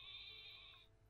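A sheep Pokémon in Pokémon Sword lets out one short, thin electronic bleat that holds steady and then stops, quiet against a low background hum.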